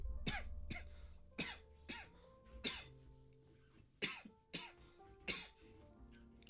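Repeated harsh coughs and throat clearing, about eight separate bursts spaced roughly a second apart, close and fairly loud with quiet gaps between them.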